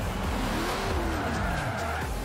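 Eight-litre V10 engine of a car in Forza Horizon 4, a continuous loud roar with rising and falling revs and a tire-squeal-like whine over a rumbling low end throughout the short stretch.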